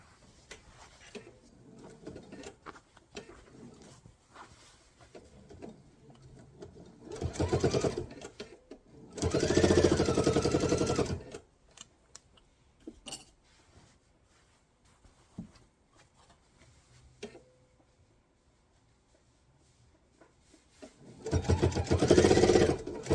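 A sewing machine stitches knife-edge facing binding on a quilt in several short bursts of rapid whirring, separated by quieter pauses with faint handling sounds, the longest run lasting about two seconds.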